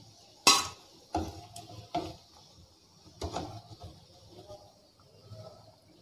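Fried snacks are lifted out of a pan with a metal utensil, giving several sharp clinks and scrapes at irregular intervals, close by, with quiet rustling between them.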